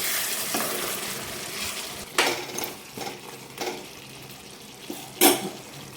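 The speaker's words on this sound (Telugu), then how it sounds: "5 మినిట్స్ తర్వాత మూత ఓపెన్ చేసి ఒకసారి కర్రీ అంతా బాగా కలుపుకోవాలి" A chicken cashew curry stirred in a pot after its lid is lifted, with sizzling and frying under a few sharp utensil scrapes and knocks against the metal. Nobody speaks.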